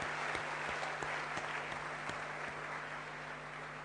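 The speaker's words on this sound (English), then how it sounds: "Let's have another round of applause for Elena Dokic." Audience applause for tennis player Elena Dokic at the Newcombe Medal awards evening, a faint, distant wash of clapping from a large room, steady and even, with a low hum beneath.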